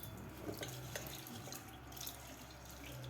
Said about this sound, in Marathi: आता आपल्याला व्यवस्थित हे 2 पाण्याने डाळ व्यवस्थित धुवून घ्यायची आहे